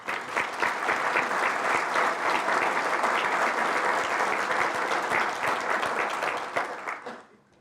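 Sustained applause from a business and civic audience greeting a newly hired regional organization president, a dense, steady wash of clapping hands that holds for several seconds and then tapers off at the end.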